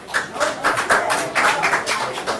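Scattered clapping from a crowd, uneven and brief, with some murmuring voices mixed in, at a regular public meeting.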